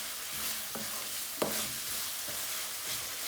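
Salted onions fry and caramelize in a pan for a chicken spinach curry, giving a steady close-up sizzle with a few soft clinks and scrapes from stirring.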